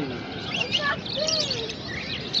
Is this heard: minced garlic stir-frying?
no